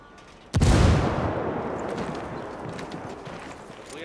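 A single loud blast, a gunshot or explosion in the shooter game Ghost Recon Wildlands, with a sharp onset followed by a long rumbling decay and scattered distant pops.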